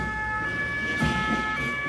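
A police medical ambulance siren wails steadily at a national unity day parade in Bamenda, moderately near and continuous, with faint street background underneath.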